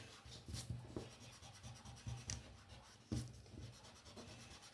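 A rubber eraser rubs out pencil marks on a paper drawing. Soft, close scratchy strokes come in quick repeated bursts, with a few louder swipes, and no voices.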